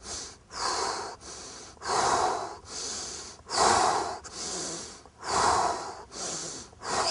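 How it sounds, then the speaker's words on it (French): Rapid rhythmic breathing during a Systema push-up exercise, in through the nose and out through the mouth, with about eight close, forceful, hissing breaths in steady alternation and no speech. "Inspire nez, expire bouche."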